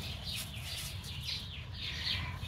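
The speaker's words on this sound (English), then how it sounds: "As you can hear, the birds are waking up." Birds sing and chirp at sunrise around a campsite, a continuous faint chorus of high repeated calls from several birds at a distance, heard alone over a low background rumble.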